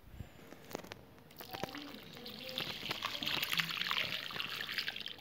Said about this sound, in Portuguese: fiz a rega aqui com bastante água